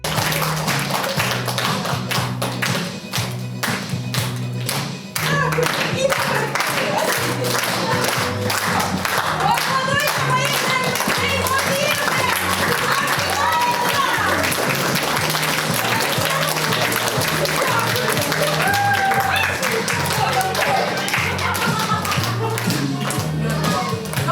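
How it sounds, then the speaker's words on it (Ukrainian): Loud, long ovation for young actors at a theatre premiere, dense rhythmic clapping that continues for over twenty seconds over background music. "доказом того були гучні овації та оберемки квітів для юних акторів"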